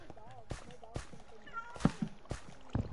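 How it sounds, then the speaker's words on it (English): Cat meowing in a Minecraft-style block game, several short game meows mixed with clicks and thumps, heard under people talking. "I thought you had a cat."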